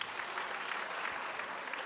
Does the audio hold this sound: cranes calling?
no